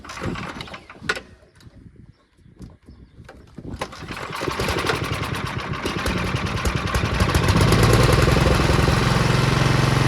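An Ariens snowblower engine sputters through a few uneven bursts, then catches and settles into a steady, close running drone. It gets louder toward the end as the throttle comes up. No talking.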